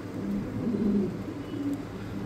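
A male pigeon coos in low, throaty rolling phrases, close and moderately loud, with a few separate calls over a faint steady background hum.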